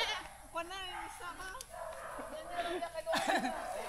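A goat bleats in wavering cries nearby, mixed with people talking and a brief dog-like yelp.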